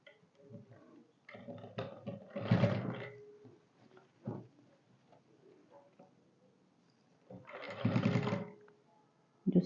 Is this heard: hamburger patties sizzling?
no